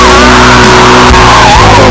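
A car skids in the video game Five Nights at Freddy's: Security Breach, during a garage escape, as a loud, continuous tire screech with engine roar underneath, close and lasting under two seconds.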